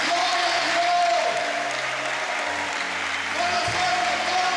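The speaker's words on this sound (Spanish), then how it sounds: "Samuel, Samuel, dale fuerte el aplauso, pero también gloria a Dios." A church audience applauds during a sermon at a fellowship gathering in Tijuana, a full sustained burst of clapping from a crowd with a few faint cheers mixed in.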